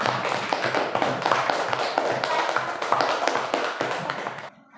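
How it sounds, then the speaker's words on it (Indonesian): A classroom of students claps together, a steady, dense patter of many hands that continues evenly and stops abruptly at the end. "Sekarang tepuk tangannya semuanya."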